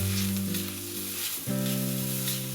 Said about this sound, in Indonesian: Ini saya tambahkan kurang lebih 50 ml air.